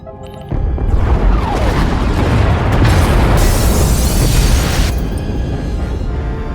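A massive explosion in Star Wars: The Old Republic tears through escape pod bays, hitting with a sudden loud boom and then rolling into a long, heavy rumble with crackling debris that fades slowly.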